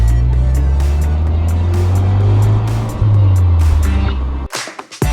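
A Ford Focus ST engine drones loudly and steadily as it pulls, with a brief dip in pitch midway before the sound cuts off abruptly.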